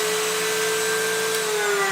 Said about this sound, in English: We push the pocket lever forward to cut the pocket.